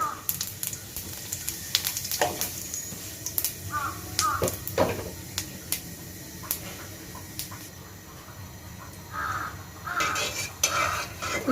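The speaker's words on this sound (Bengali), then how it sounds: "তেলটা আমার গরম হয়ে আসছে, এর মধ্যে দিয়ে দিব এবার গোটা জিরে" Soft sizzling of whole cumin seeds frying in hot soybean oil runs under scattered metal clinks and stirring scrapes, with quiet bits of talk in the background.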